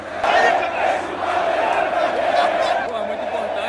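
Vasco football fans chanting in a stadium, a massed roar of voices holding a sustained chant, loud and continuous, with the crowd swelling early and staying strong to the end.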